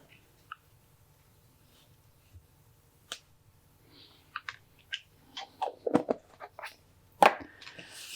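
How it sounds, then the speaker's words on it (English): Two-part epoxy paste is stirred by hand during a handle installation, giving scattered soft scrapes and clicks that grow busier toward the end, with a sharper tap near the close, all fairly faint with no talk. "So while I'm mixing up my paste here, my 2-part paste"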